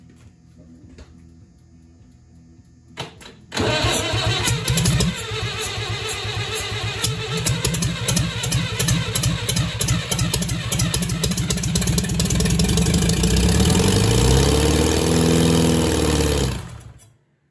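A seized Leyland tractor engine is cranked and struggles to start, giving a loud, steady mechanical churning that runs for about thirteen seconds before cutting off abruptly.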